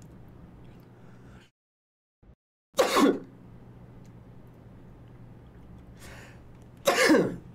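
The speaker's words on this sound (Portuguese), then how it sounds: "Vou espirrar." Two sharp, loud sneezes about four seconds apart, each a short burst heard over low steady background noise.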